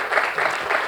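Applause from an audience at a book concert in Korea, a steady patter of many hands clapping with slight swells, no voices over it.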